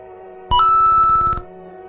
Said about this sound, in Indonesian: Bunyi notif di ponselnya.